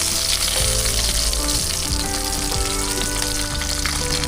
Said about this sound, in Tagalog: At ngayon nga po ay luto na po yung ating pritong isda